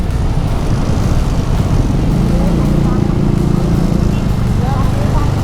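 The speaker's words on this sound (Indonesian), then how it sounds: "Terus raungan suara knalpotnya juga cukup ngebas." A stock exhaust on a TVS NTORQ 125 Race XP scooter gives off a steady, deep, bassy engine rumble, loud and close throughout, with a voice heard over it.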